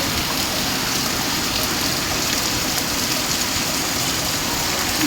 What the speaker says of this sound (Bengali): আর এদিকে প্রচণ্ড বৃষ্টি পড়ছিল।